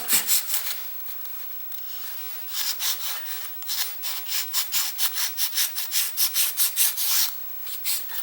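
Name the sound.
filing a painted model to lighten the colour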